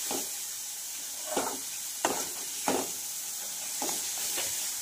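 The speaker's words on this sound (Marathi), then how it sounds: "तर छानपैकी असं आपण मसाले फ्राय करून घेऊया" Masala spices for egg curry frying in oil with a steady soft sizzle, broken by several spoon scrapes and stirs against the pan at irregular intervals, close by with no voices.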